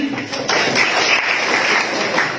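An audience at a Bangladesh Scout council gathering in a government high school claps for the head teacher, a dense, steady applause that fills the room from start to finish.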